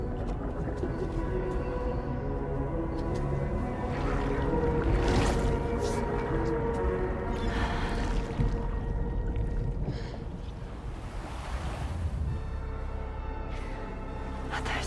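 Rolling surf washes onto a beach in the video game Death Stranding 2, a steady, loud wash of water with swelling surges and no talk over it.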